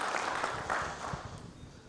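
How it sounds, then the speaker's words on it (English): Brief applause from a university conference audience for the event partners, a short burst of clapping that quickly thins out and fades. "let's give a round of applause to our partners"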